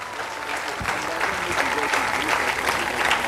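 A church congregation claps steadily through a French-language worship service, the applause loud and sustained throughout with voices faintly mixed in beneath it.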